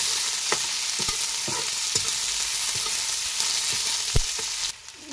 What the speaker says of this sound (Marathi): आणि थोडीशी परतून घेऊ त्याला.